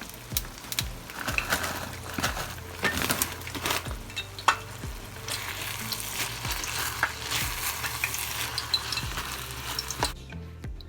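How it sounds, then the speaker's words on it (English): Frozen mixed vegetables tumble into nearly done rice for shrimp fried rice and get stirred through, with steady sizzling and frying beneath repeated scraping knocks of a utensil against the pot, loud and close, continuing for about ten seconds before dropping away. "So I will be adding the frozen vegetables to the rice."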